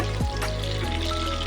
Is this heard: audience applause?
no